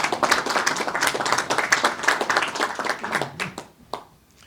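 Audience clapping at a Chicago event confirming a new police superintendent, loud and dense at first, then thinning into scattered claps that fade out by the end.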